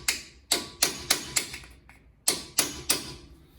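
A metal scraper tapping a front wheel bearing part into its seat on a 2019 Ford E350, eight sharp, crisp knocks in two quick runs with a short pause between, close and clear.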